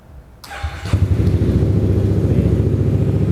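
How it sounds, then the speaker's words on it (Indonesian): A 250cc Yamaha X-Max scooter engine starts with a short crank, then settles into a steady, deep, throbbing idle close by. "Nah, ini suara X-Max si Moge Tracker ini ketika baru dinyalakan gitu"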